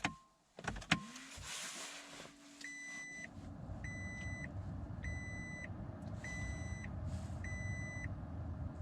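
A Toyota Prius sounds its warning beeps while the car is in neutral with traction control disabled: about five evenly spaced high electronic beeps over a low steady cabin hum, following a few clicks.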